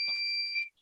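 A single short electronic beep from a backup battery pack during a power outage, a steady high two-tone chirp lasting under a second, close and clear.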